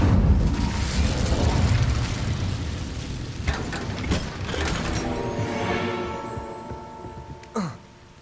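A fire spell cast in the Hogwarts Legacy game, heard as a loud rumbling, crackling whoosh of flame that fades and then ends with a short bright burst.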